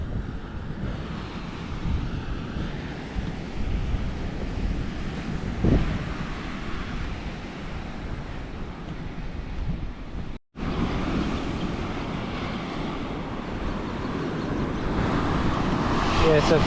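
Ocean surf and strong wind on a Hatteras Island beach ahead of a hurricane: a constant roar of breaking waves mixed with gusty wind buffeting the microphone, broken by one brief dropout.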